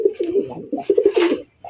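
A fancy pigeon coos close by in a short run of soft, throaty, rolling coos, with a brief pause before a final note starts.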